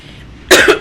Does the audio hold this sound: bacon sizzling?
no